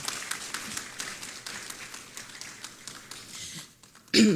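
An audience applauds at a ministers' swearing-in ceremony, scattered claps from a distance forming a light, uneven patter that fades toward the end before a brief louder burst.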